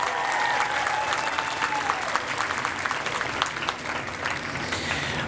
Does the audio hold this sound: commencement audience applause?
yes